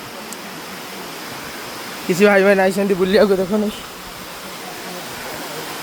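Heavy water pours down at Similijhara waterfall near Begunia in a constant roaring rush that fills the whole stretch, while someone speaks briefly over it in the middle.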